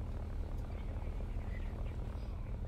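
Steady droning radial engine of a Nakajima Ki-43 Hayabusa fighter in War Thunder flight simulation, a continuous low rumbling hum with no breaks, heard from inside or close to the aircraft.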